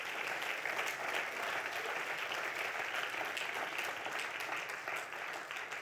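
Sustained applause from a church congregation during a French-language sermon on family and discipleship, a dense, even wash of many hands clapping at once, steady and fairly loud for the whole stretch with no talk above it.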